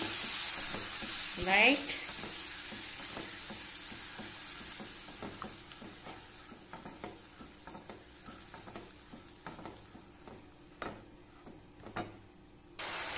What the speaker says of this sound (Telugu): ఇప్పుడు కర్డ్ వేసుకుందాం కొంచెం బాగా కలపెడదాం